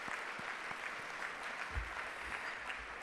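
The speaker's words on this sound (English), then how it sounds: "Can we give a round of applause for our dynamic students at the Law Dual Credit Program School?" Audience applauding students at a school district event, a steady wash of many hands clapping throughout, moderately distant and even, with a faint voice or two underneath.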